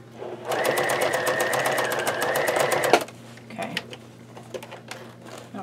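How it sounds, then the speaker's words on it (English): Close, loud sewing machine running a steady burst of fast stitches for a few seconds, tacking down a zipper end on a bag, then stopping abruptly, followed by faint handling clicks and a voice. "I'm going to sew this down just a little bit"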